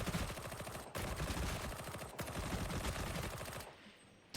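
Rapid automatic gunfire from a ranged weapon in the video game Darktide, fired in three sustained bursts separated by brief gaps, followed by a quiet pause and a short mechanical click at the end.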